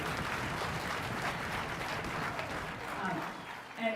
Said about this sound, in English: So round of applause for Jazzers